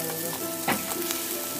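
Pork, including pork wing pieces, sizzles on a Thai mu kratha pan grill outdoors, a dense continuous frying hiss with a brief louder crackle partway through.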